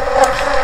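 A loud, dense buzzing hum of honeybees from a colony being split, close up and steady throughout a very brief moment.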